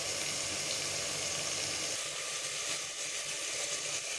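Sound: onion, chilli, tomato and spices frying in a pan

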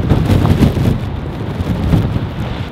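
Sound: rain falling outdoors

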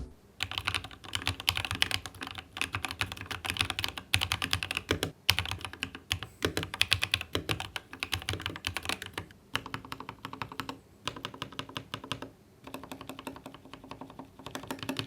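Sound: typing on linear mechanical keyboard

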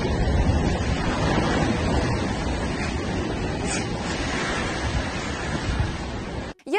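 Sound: storm waves crashing on the shore

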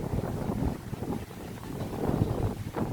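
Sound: wind

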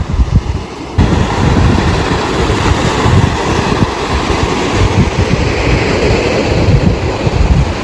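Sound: rough sea waves at the shore

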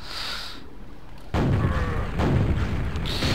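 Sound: explosions in the Quake video game

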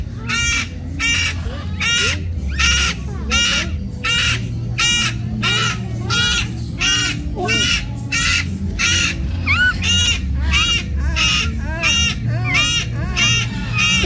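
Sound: bird honking

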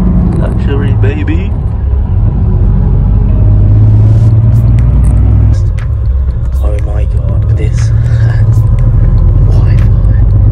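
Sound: luxury sleeper bus engine rumbling while driving

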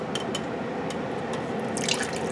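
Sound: coconut milk being poured into curry

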